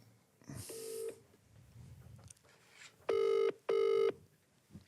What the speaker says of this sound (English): I've got a wee phone call to make.